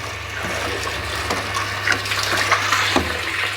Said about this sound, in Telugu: ఇప్పుడు ఈ అడుగునున్న నీళ్ళు కూడా సపోటాకి, మామిడికి పోసేసి ఈ డ్రమ్ము కడిగేస్తా.